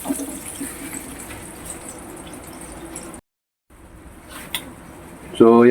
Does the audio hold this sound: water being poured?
yes